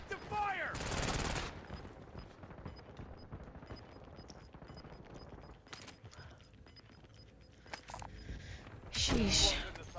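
Call of Duty Warzone gameplay with loud bursts of gunfire, some shots ringing out singly and others in rapid strings, and the sharpest volleys near the start and the end. A player's voice is heard at times between the shots.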